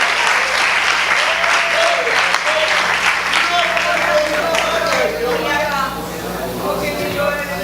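A church congregation claps loudly and steadily throughout a worship service, a dense continuous wash of applause with some voices mixed in, easing slightly near the end.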